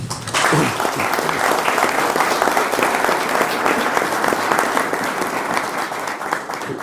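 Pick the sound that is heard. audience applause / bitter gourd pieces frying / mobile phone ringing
audience applause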